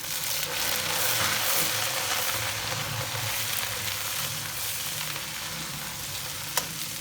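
Beef sizzles and crackles steadily in a hot pan with golden-brown onions, a constant frying hiss with occasional stirring and a brief sharp clink near the end.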